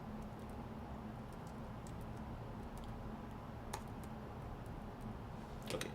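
Keys on a computer keyboard click in scattered light taps while text is entered in a design editor, faint beneath a steady background hiss.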